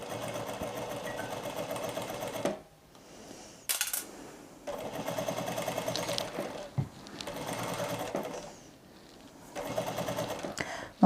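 A domestic sewing machine stitches a fabric pencil case in three rapid, close whirring runs, with short pauses and a few clicks in between.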